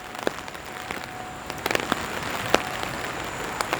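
Rain falling during a walk along Yonge Street in Toronto, a steady close hiss of drops on the pavement with scattered sharp patters and ticks, no voices.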